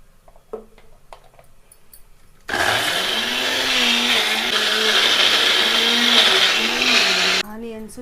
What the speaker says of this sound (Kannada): ಈಗ ಇದಕ್ಕೆ ಸ್ವಲ್ಪ ಅಂದರೆ ಸ್ವಲ್ಪ ವಾಟ್ರ್ ಹಾಕ್ಕೊಂಡು ಚೆನ್ನಾಗಿ ಫೈನಾಗಿ ಪೇಸ್ಟ್ ಥರ ಗ್ರೈಂಡ್ ಮಾಡ್ಕೊಳ್ಳೋಣ